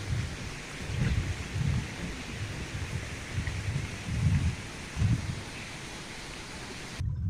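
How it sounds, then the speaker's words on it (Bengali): Heavy rain falling outside, a steady hiss heard from indoors with soft low rumbling swells, fairly faint and continuous, cutting out abruptly near the end. "অনেক বৃষ্টি বাহিরে।"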